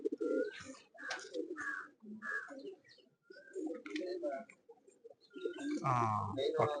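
Racing homing pigeons coo and chirp in the background of a pigeon loft while people talk over them almost throughout.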